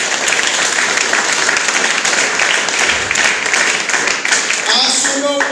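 A church congregation in Medellín, Colombia applauds steadily for several seconds, a dense loud clapping that fades near the end as a voice begins to speak.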